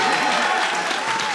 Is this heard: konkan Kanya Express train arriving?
no